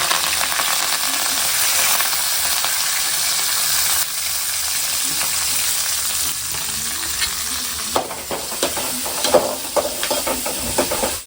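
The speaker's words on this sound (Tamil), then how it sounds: "சிக்கன் தொக்கு செய்யறதுக்கு வந்து சோம்பு பட்டை அப்புறம் வந்து லவங்கப்பூ அது எடுத்துக்கணும் கருவேப்பிலையும் வெங்காயமும் போட்டுக்கணும்" Fennel, cinnamon, cloves, curry leaves and onions fry loudly for chicken thokku, a dense continuous sizzle with clinks and stirring scrapes growing busier toward the end.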